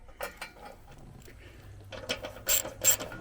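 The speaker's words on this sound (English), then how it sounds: "I'll get all these screws tightened on both sides" Ratchet wrench tightening screws on the deck covers of a 54-inch Craftsman zero-turn mower, heard as bursts of rapid clicking pawl ratcheting, quieter early then louder and denser near the end, with no voices.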